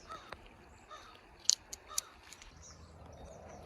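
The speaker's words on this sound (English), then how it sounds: "there's a bunch of crows out there" A few scattered crow caws at a distance over a quiet outdoor background by a wide, shallow creek, with a short cluster of sharp calls in the middle.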